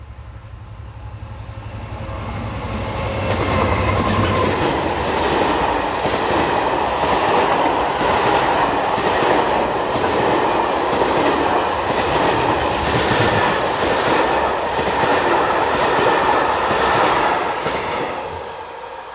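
A Class 77 diesel locomotive hauls a southbound mineral water freight train near Chaudenay, building from a low rumble into a loud, steady roar with rhythmic wheel clatter over rail joints that holds close by before easing slightly at the end.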